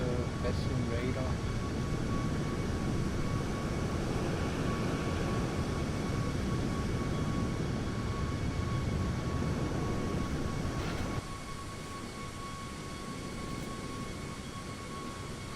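A Boeing 737 MAX in a VR flight simulator on a Melbourne to Sydney flight gives a steady, broad engine and cockpit roar that drops slightly in level near the end.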